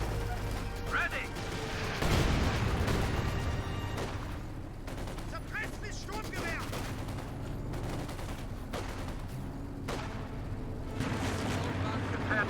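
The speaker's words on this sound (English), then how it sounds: "Ooh, I heard an explosion." Explosions and heavy battle fire boom across a Company of Heroes 2 match, a loud blast near the start followed by scattered crashes and gunfire, with a voice talking over parts of the action.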